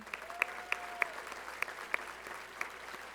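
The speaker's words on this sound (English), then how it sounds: "And so one more applause for them." An audience offers one more round of applause, heard here as faint, scattered claps at irregular intervals over a quiet room with a brief tonal whine early on.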